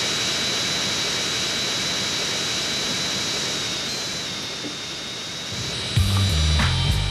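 A military jet engine roars in GTA San Andreas, a loud, steady whooshing blast with a thin high whine that shifts near the end as a low pulsing game tone joins in.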